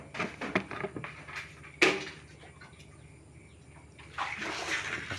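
Water pours into a household water pump being primed and filled until full, a steady faint hiss and trickle with a brief splash-like burst partway through and the flow swelling louder toward the end.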